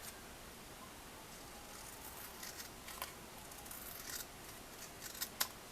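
Scissors trim glued cardstock pocket edges in a quiet craft setting, giving faint, close snips and soft paper rustling in a loose, irregular rhythm, with a few sharper cuts near the end.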